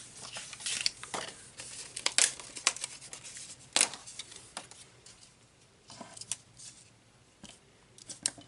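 Scissors trim a paper holiday craft in a series of close, crisp snips and rustles, irregularly spaced, with quieter handling sounds between cuts.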